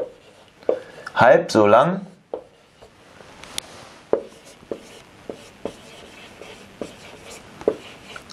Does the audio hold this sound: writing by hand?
yes